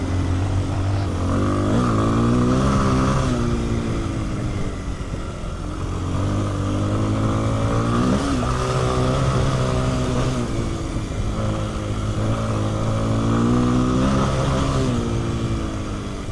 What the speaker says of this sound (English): benefits of having motorcycles that are dual sports.